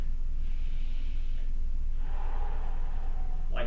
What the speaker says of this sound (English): I'm exhaling on the back portion of it.